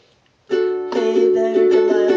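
Ukulele chords from a song's verse begin after a short silence. A few bright, close strums ring out alone.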